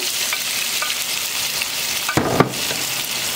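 Onion, tomato, escabeche and pepper fry in a pan for Atamalado Piurano with a loud, steady sizzle. A brief burst of stirring clatter comes near the end.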